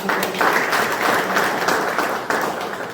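An audience at a Kargil Vijay Diwas celebration in Nichchanaki village, Kittur, honouring an Agniveer, gives loud, sustained applause: dense clapping throughout.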